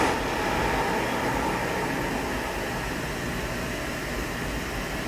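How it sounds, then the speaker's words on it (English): Steady, broadband hiss of pink noise fills the room from a full PA system, loud and unchanging from start to finish. "that is a whole PA with pink noise"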